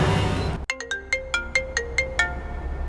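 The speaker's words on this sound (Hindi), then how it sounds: "ये अब किसका फोन आ गया?" A phone ringtone plays a bright, repeating electronic melody of short chiming notes, clear and close, with no talking over it.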